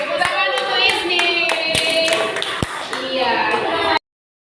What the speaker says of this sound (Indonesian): Tepuk tangan untuk Isni.